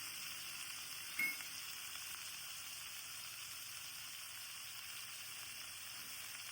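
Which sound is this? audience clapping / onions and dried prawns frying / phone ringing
onions and dried prawns frying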